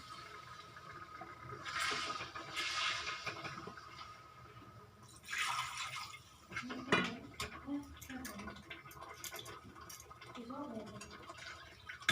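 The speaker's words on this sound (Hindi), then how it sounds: "तो अब हम यहाँ पर डालेंगे जितना हमें ग्रेवी रखनी है उस हिसाब से पानी" Water being poured into cooked masala in a pan for dum aloo gravy, with splashing and sizzling bursts, clinks of a utensil against the pan, and a spoon stirring, close and fairly faint.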